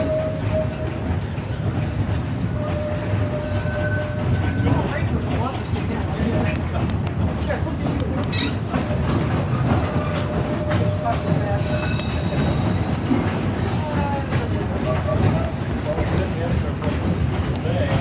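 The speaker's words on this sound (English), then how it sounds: "the sights and sounds of steam power in action" A steam train on the East Broad Top Railroad rolls along, its wheels and cars rumbling and clattering continuously with occasional squeals, while people talk nearby.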